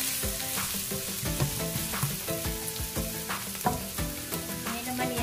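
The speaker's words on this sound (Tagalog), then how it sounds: "So, brown lang natin yung sibuyas at saka bawang." Chopped onion and garlic browning in a frying pan for pancit canton, with a continuous sizzle and repeated scraping strokes of a utensil stirring at close range, no talking.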